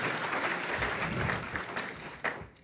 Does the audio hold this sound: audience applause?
yes